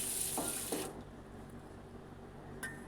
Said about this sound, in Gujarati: દાળને આપણે મોટા વાસણમાં નાખી દઈશું. હવે તેમાં આપણે પાણી નાખી દઈશું.